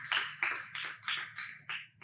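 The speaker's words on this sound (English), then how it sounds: "So let us give round of applause for both of them." A round of applause from an audience at a hotel housekeeping training session, a few bursts of clapping swelling and fading over a couple of seconds, fairly faint and without voices.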